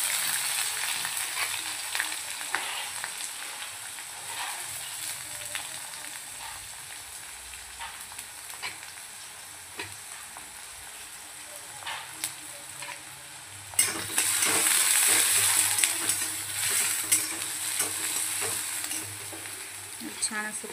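Peanuts, mustard seeds, green chili, cumin and onion sautéing in a pan for rava upma, a continuous close frying sizzle with occasional stirring clicks that turns louder and denser partway through as more ingredients go in, with no talking.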